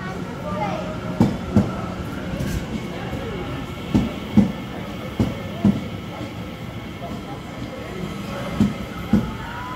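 A London railway train passes close by with heavy rumbling and a series of sharp clattering wheel knocks over rail joints, spaced irregularly across the stretch.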